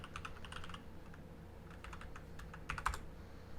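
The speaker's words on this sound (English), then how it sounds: "I have the mechanical keyboard, and it's gonna be so loud." Typing on a mechanical keyboard, with a steady patter of clacky keystrokes and a slightly louder burst near the end, set against a low room hum in a podcast studio.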